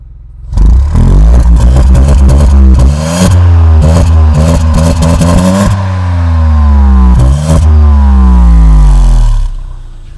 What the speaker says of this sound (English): I'm just going to rev the engine for you and you'll be able to hear this exhaust sound